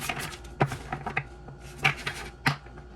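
A deck of tarot-style cards is handled and shuffled nearby, giving a series of sharp, irregular riffling snaps and taps spaced through a quiet background.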